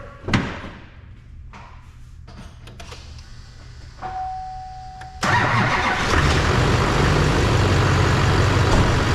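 A 2008 GM diesel engine is started with a jump starter: clicks and a short electronic tone, then the starter catches and the engine fires into a loud, steady idle that continues to the end, with no speech.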